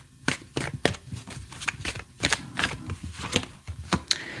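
Tarot cards are shuffled by hand close up, a series of quick riffling, slapping bursts in an uneven rhythm, fairly quiet with no talking.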